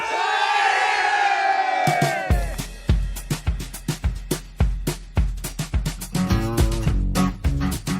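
At a drag show, a loud shout from a crowd gives way to rhythmic clapping and stomping beats, with voices cheering and hollering together over the pulse.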